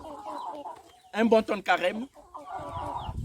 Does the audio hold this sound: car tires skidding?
no